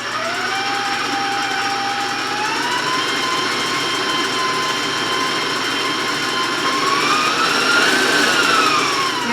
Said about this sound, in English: I'm going to slowly put it into my egg whites and beat it.